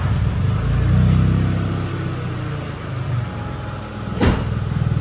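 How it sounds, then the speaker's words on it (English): Smart 453 car engine running at a low, steady idle after being started during a coolant change, with a loud rumble early on and a brief sharp noise near the end. "Start the engine."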